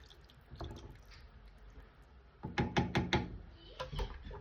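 Beef stew with meat covered in water is stirred in a pot, giving soft wet sloshes and a cluster of quick knocking clicks of a spoon against the pot, fairly faint and close.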